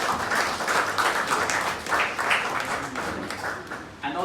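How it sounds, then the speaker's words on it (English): Audience applause for the panelists at the close of an election analysis session, a steady wash of clapping holding at moderate level for about four seconds before tailing off slightly at the end. "Please give a round of applause for our panelists"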